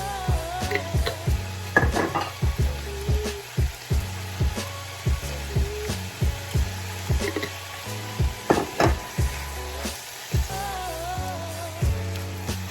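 Ground beef frying and being stirred in a pan, with steady close sizzling broken by repeated scraping and clinking of a utensil against the pan in an uneven rhythm.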